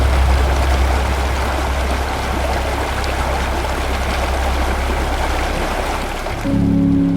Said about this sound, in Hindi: गुफा का सन्नाटा, पानी का शोर हैरान करता है।